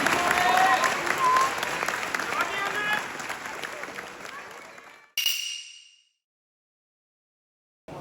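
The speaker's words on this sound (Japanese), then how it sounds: "今一度大きな拍手をお送りください。" Big round of applause from a sumo audience at a retirement ceremony for wrestler Takarafuji, loud and dense for about five seconds, then a brief burst before it cuts to silence.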